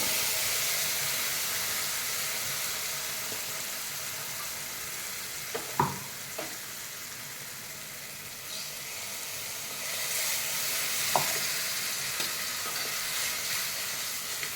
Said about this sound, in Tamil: இதை நம்ம அரைச்சி வச்ச மசாலாவும் இதில் நல்லா போட்டு கொஞ்சம் லைட்டாக வதக்கிட்டு